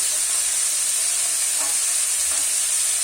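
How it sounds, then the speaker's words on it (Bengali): Carrots and capsicum frying in ghee with curry leaves, a steady close sizzle and hiss running evenly throughout with faint stirring scrapes and no voices. "এগুলোকে আমি আস্তে আস্তে এইভাবে ভাজতে থাকবো।"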